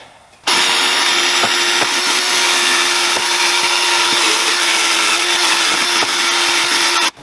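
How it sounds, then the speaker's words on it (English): A wire wheel on a power tool cleaning a part of a Cub Cadet RT65 tiller, a loud, steady abrasive whir and scrape that starts abruptly, runs about seven seconds close up, then cuts off. "I'm going to go over this with a wire wheel and clean that up a little bit"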